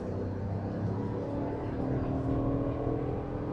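A 2026 Chevy Suburban Z71 engine being floored, a steady, loud, low drone that swells slightly, heard from inside the cabin with no talk over it.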